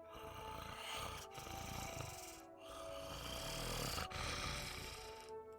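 Heavy, rasping snoring breaths repeat in long drawn cycles with brief pauses between them, close and steady, with no talk over them.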